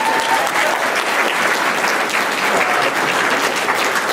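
Audience applause at Phoenix Comicon, a steady dense wash of many hands clapping at even loudness throughout, with no talk over it.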